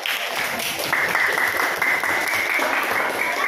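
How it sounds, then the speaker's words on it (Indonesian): A classroom of students applauds a student group during a science lesson, a dense, steady burst of many hands clapping together at close range for a few seconds. "beri tepuk tangan untuk kelompok jihad"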